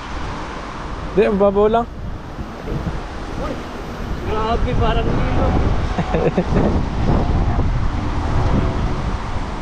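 Strong wind gusts across a river, buffeting the microphone as a steady roar that swells louder midway, with people talking over it throughout.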